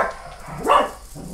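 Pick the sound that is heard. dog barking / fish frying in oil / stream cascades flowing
dog barking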